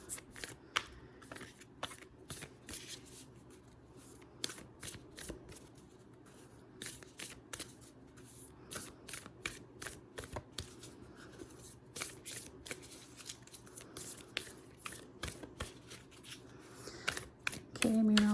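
A new deck of tarot cards gets shuffled by hand, with repeated soft riffles and sharp card snaps in an irregular rhythm, close and fairly quiet, alongside occasional speech.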